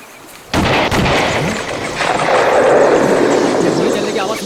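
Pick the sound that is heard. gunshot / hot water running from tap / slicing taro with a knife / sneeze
gunshot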